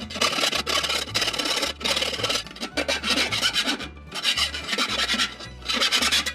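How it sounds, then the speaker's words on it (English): Hand file rasping back and forth on a metal part while building a homemade variac from spare parts, in steady loud strokes with brief pauses between passes and no talk. "I got a little bit of filing to do here."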